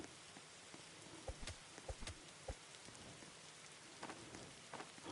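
Steady rain in a Roblox game hisses throughout, with scattered nearby drops and taps landing on a surface; no voices.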